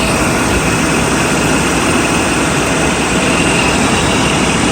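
A Mercedes S600 coupe idles just after starting, a loud, steady engine drone with dense, even mechanical roar and no change in pace throughout.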